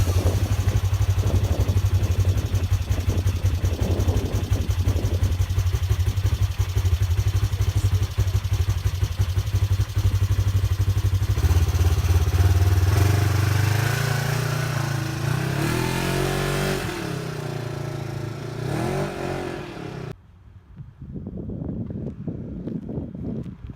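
A Polaris vehicle drives a loop around a store, its engine droning and revving with wind buffeting the microphone, then fading toward the end as it slows.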